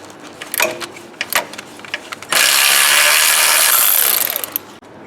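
A ratchet wrench works an 11/16 brace bolt under a rear-wheel-drive car, with a few scattered clicks and clanks before a loud, sustained burst of rapid ratcheting that runs for about two seconds, close up.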